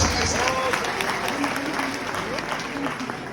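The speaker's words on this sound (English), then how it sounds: "Big clap." A church congregation gives a big round of applause, lively clapping and cheering filling the space with voices mixed in.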